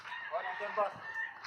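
Chicks in a brooder tent on a Philippine poultry farm, heard as a busy chorus of short, high chirps and peeps under faint background talk.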